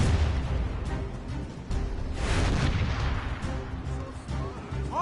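Ship cannons fire in a naval battle in the Assassin's Creed Rogue video game, heavy booms and crashes rolling one after another over a dense, continuous battle din.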